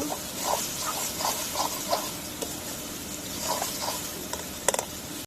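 Egg curry (dim bhuna) sautéing in a pan gives a steady broadband sizzle and hiss with faint scraping stirs throughout, close and moderately loud, with no voices.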